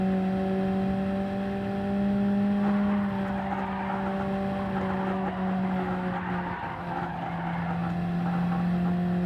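A car drifting in Gran Turismo 7 gives a sustained, steady tire squeal with a held, wavering pitch over low engine noise, unbroken and loud for the whole stretch.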